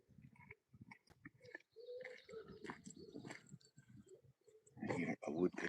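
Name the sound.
wood pigeon cooing near a loch at sunrise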